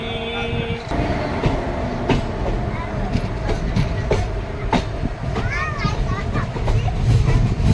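The Tatanagar-Asansol Express rumbles along the rails in a steady, loud roar heard from on board, with scattered clacks and squeals over the continuous noise.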